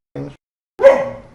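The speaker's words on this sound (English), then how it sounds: "Stop barking!" A dog barks twice, a short bark followed by a louder, longer one after a brief pause, close by.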